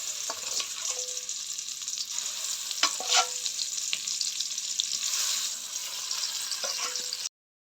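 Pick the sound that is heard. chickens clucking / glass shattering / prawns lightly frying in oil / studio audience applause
prawns lightly frying in oil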